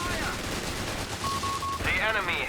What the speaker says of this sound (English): Machine gun suppressing.